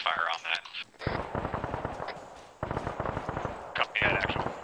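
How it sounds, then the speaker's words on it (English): Suppressing gunfire in an Arma Vietnam-era village battle game: sustained dense automatic fire in long rattling bursts with brief gaps, loud and continuous, overlaid with radio chatter and voices. "see if they can put some suppressing fire on that"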